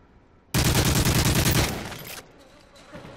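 Burst of automatic gunfire in Call of Duty MW3 on the Hardhat map: a loud, close, rapid volley lasting over a second, then fading into quieter echo and faint background noise.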